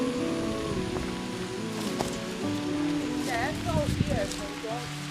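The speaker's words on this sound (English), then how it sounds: "it started raining just as we were finishing packing up the camp" Rain patters on a hike through Queen Elizabeth II Wildlands, a steady wash beneath loud nearby voices, footsteps and gear rustle.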